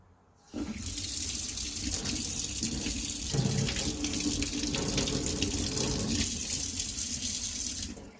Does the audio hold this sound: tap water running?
yes